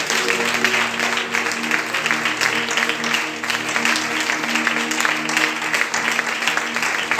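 A church congregation claps for the Lord in a steady, sustained round of applause that stays dense and even throughout, filling the room with no voices standing out.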